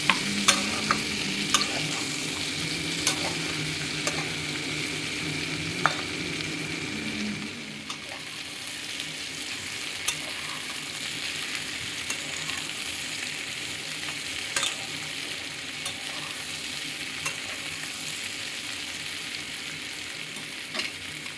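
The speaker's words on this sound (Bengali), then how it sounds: "এটাকে একটু ভালো করে আমি কষিয়ে নেব, ঢাকা চাপা দিয়ে দিয়ে কষিয়ে নিচ্ছি।" Bottle gourd and potato chunks sizzle steadily in oil in a wok, with frequent scrapes and taps of a spatula stirring the pieces; the frying hiss stays constant and close, softening slightly partway through.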